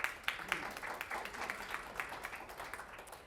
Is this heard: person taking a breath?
no